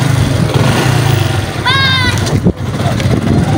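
A motorcycle engine runs with a loud, close, steady low drone throughout, and a short voice cuts in over it partway through.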